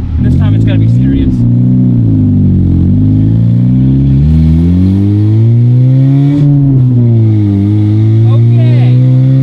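Honda-style VTEC car engine pulling hard in third gear at full throttle, a loud, continuous rising engine note climbing steadily in pitch with a brief dip midway, with a voice talking over it early on.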